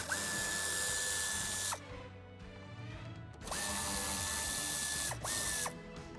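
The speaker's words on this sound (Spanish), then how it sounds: "Retiraremos los tornillos que sujetan esta parte inferior." Power drill or driver unscrewing the screws that hold the lower trim panel beside the fuse box of a 2016-2020 Audi A3 Sportback, in two sustained whining bursts with a short third burst, close and loud with no talk.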